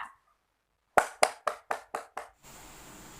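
An audience claps to welcome an MC at a moderator and speaker practice session: six sharp, evenly spaced claps in a quick rhythm, then a faint murmur of room noise.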